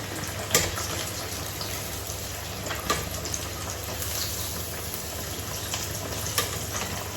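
Fish frying in hot oil, a steady dense sizzle running throughout with a few brief sharper pops and crackles, close by and fairly loud, with no talking.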